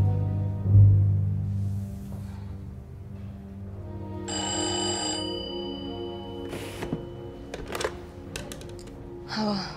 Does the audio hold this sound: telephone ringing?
yes